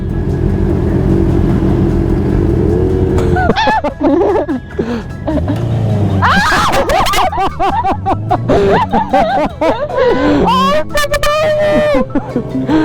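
A motorcycle engine holds a steady, rumbling drone in the opening seconds, then carries on underneath as people talk and laugh loudly over it.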